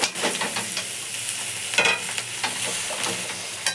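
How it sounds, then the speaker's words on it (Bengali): Chow mein noodles with egg and chicken are stirred and fried in a pan, a close sizzle broken by scraping stir strokes and soft clatter, with no talking. "এবার আস্তে আস্তে নেড়ে নেবো"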